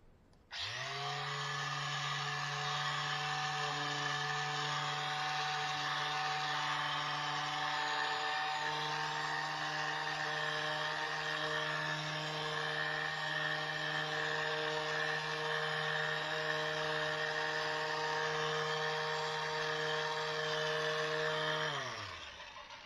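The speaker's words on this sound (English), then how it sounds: "I'm using worn sandpaper because I don't want to take too much off." Worn sandpaper on a power sander works the wood of a sailboat, a steady continuous tonal whir that holds evenly for about twenty seconds before stopping, with no speech.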